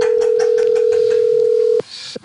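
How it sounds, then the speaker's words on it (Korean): A telephone dial tone sounds as a call is placed, a steady, loud, unbroken tone for almost two seconds that cuts off abruptly, followed by faint low clicks. "전화 연결해 보도록 하겠습니다"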